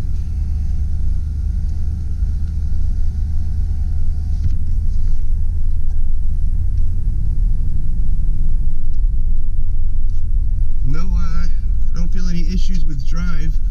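A 1989 Chevy Caprice Classic station wagon drives along with a steady, loud low engine and road rumble heard from inside the cabin, and a voice speaks briefly near the end.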